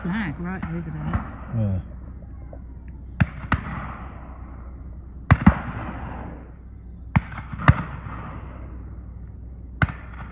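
Distant gunshots from a shoot across the water, sharp isolated cracks spaced irregularly a second or more apart, heard from a narrowboat with people talking at the start.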